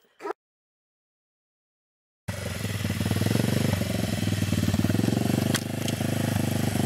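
Motorcycle engine running through a gear change after rain, a short blip, a pause of silence, then a loud, steady rumbling drone with a rhythmic pulse close by.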